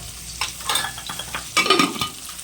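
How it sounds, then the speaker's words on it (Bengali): Two small rohu fry frying in a pan in a home kitchen, with soft sizzling and intermittent scrapes and stirring clicks from a spatula, close and moderately loud, no talking. "এই যে মাছ ভাজা হচ্ছে"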